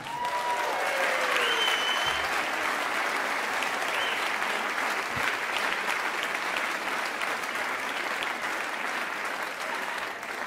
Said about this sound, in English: I want a very big applause for the Venezuelan living in New York,